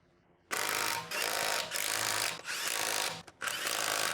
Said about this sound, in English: Reinstall your wheel nuts using the 17mm socket to secure them.